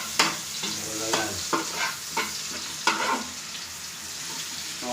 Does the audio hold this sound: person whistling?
no